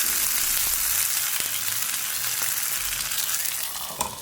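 Pieces of fish pollichathu fry under a lid in a covered pan, giving a steady, close, broadband sizzle that holds evenly throughout with no talk.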